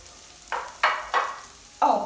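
Ginger garlic paste sizzles in a pan with fried onion, four short bursts of frying as it is stirred, close and fairly loud with quiet gaps between.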